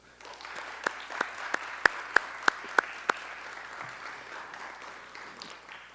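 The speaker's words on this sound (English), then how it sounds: "can we just give a tremendous hand clap of thanks to the panelists" Scattered applause from a small audience, with a handful of sharp, distinct claps standing out over a softer background patter.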